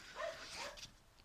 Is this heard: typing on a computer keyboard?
no